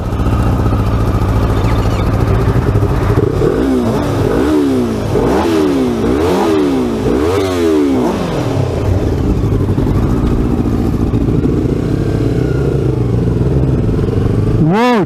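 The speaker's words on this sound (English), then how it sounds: "Let me get on to one of my most favorite motorcycles, the Yamaha" A Yamaha R3 motorcycle engine revs up and down in a quick series of sharp throttle blips, then settles into a steady, loud drone close by.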